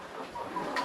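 Brief, faint clucking of chickens on a pig farm, a soft fowl call lasting under a second against light background noise.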